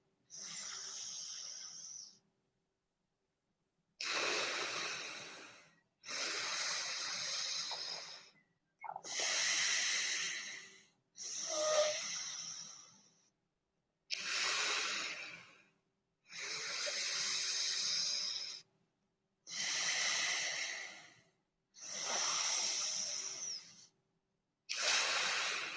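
Deep, slow breaths during a yoga class, about nine long inhales and exhales spaced evenly with short pauses between them, close and clear with no talking.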